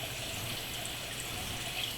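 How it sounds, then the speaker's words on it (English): Excess water trickling and draining off a dirty pond filter sponge at an indoor pond, a steady soft splashing wash that continues evenly throughout without pause. "just let the excess water drain off there"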